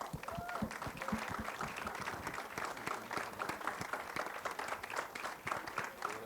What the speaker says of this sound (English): give them all a big round of applause, ladies and gentlemen